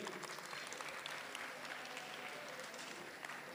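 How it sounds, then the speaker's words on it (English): Audience applause at a podcast competition final, dense, even clapping from a crowd heard at a moderate distance, continuing unbroken throughout. "Give a big round of applause for him."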